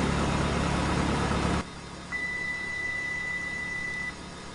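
A Cessna 172 engine runs after startup in the A2A flight simulator, a steady loud drone that suddenly drops to a quieter hum, with a thin high tone joining for a couple of seconds.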